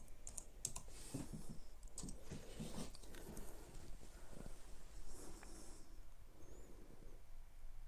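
Quick, light key taps on the keyboard of a Microsoft Surface Studio, a soft irregular clatter of typing heard up close in a quiet room.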